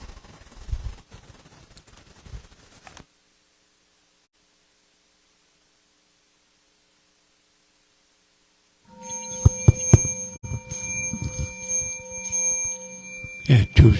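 A temple bell is invited during a Sunday service at the Buddhist Temple of San Antonio. After some low noise and a long silence, it sounds with a clear, sustained ringing tone that lingers, overlaid by a few soft knocks.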